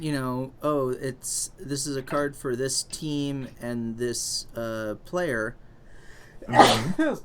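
One sharp sneeze bursts out near the end, after a stretch of casual conversation between people.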